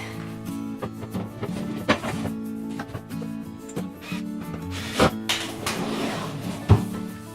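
A drawer of an IKEA Alex drawer unit slides into place with rubbing, knocking wooden and metal sounds, several sharp clunks rising from steady low handling noise close by.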